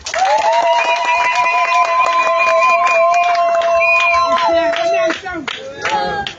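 A dense crowd claps and cheers loudly and continuously, with a sustained whistle or horn tone riding over the applause.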